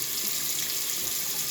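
Tap water runs steadily from a faucet for rinsing, a continuous close hiss and splash with no voices.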